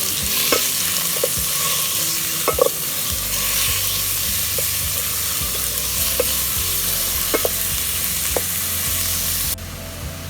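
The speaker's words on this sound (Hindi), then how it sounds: "अब हम इसमें चिकन ऐड कर देंगे और इसका जब तक कलर चेंज होगा ना, तब तक हम इसको पकाएंगे" Chicken pieces with garlic stir-fry in a hot pan for fried rice: a steady loud sizzle broken by sharp spatula scrapes and clicks at irregular intervals, with no voices.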